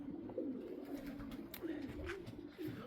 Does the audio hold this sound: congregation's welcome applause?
no